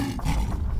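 A voice imitates a lion's roar during a creative storytelling performance at a talents festival: one loud, sustained growling roar close to the microphone, with no other talking.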